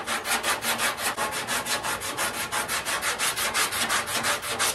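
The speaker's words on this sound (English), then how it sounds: "I anticipate probably sanding most of this stuff back off that I just got done putting on here." Body filler on a 1968 Firebird is hand-sanded with 80-grit paper in quick, even back-and-forth strokes, a close, raspy scrubbing that repeats about four times a second without a break.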